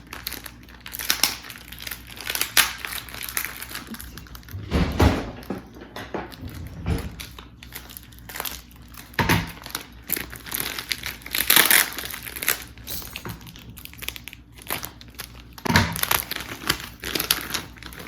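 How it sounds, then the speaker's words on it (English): A large Ziploc-style plastic bag from a King Cake mix kit is tugged and pried open up close, giving repeated crinkling, rustling and sharp crackling bursts in uneven spurts over several seconds. "they give you this big, like a Ziploc bag. If I can get it open."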